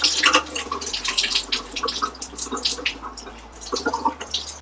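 Coolant drips and splatters irregularly during a thermostat install on an RB20 engine, a close run of small wet drops and trickles over a low steady hum, with no talk.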